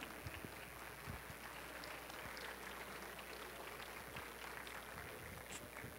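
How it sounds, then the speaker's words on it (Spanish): Audience applauding at the close of an entrepreneurship talk, a steady wash of many hands clapping at moderate distance, faint and even throughout with no voices. "ya pueden aplaudir"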